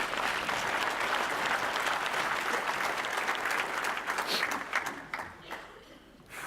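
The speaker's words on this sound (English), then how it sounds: "Let's give all of our finalists in this group a big round of applause" An awards audience claps for a group of finalists, a full, busy burst of applause that holds steady, then thins out and dies away into scattered claps near the end.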